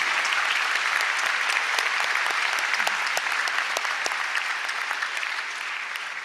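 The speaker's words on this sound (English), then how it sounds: "Let's give you a round of applause" Sustained, dense applause from a high school graduation audience, many hands clapping steadily and loudly for several seconds before easing slightly at the end.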